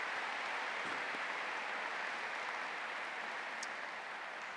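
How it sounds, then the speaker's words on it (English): A large crowd applauds steadily at a Bowling Green State University commencement ceremony, producing an even, distant roar of clapping that holds at a constant level throughout. "Please join me in a round of applause for these individuals."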